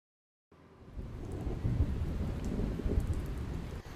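Heavy monsoon rain pours down in Surat, Gujarat. A dense, steady roar of rainfall sets in after a brief silence, with deep rumbling underneath, and no voices are heard.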